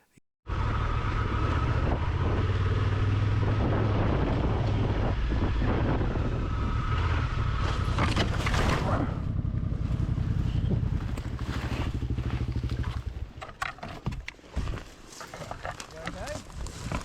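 Honda Transalp XL 750 motorcycle riding on Australian dirt roads, with loud continuous engine drone and heavy wind buffeting on the microphone, then rougher bumps and clatter as the ride turns uneven toward the end.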